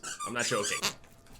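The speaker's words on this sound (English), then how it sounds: "she has this toy that either squeaks or sounds like it farts." A squeaky dog toy squeals in short, high, wavering bursts at close range, tangled up with someone talking over it.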